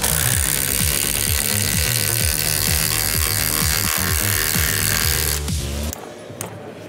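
Milwaukee Fuel impact driver set on speed 3 with a 5 amp hour battery drives half-inch lag screws into wood, loud rapid hammering impacts that cut off near the end, followed by brief clicks and handling.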